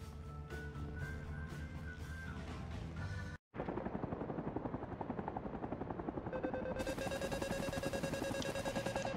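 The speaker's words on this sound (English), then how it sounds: "That beeping noise is really annoying." Helicopter rotor thumping fills the cabin in the Vietnam-era game Rising Storm 2: Vietnam, cut by a brief dropout, then a steady high-pitched alarm tone begins sounding over the rotor noise near the end.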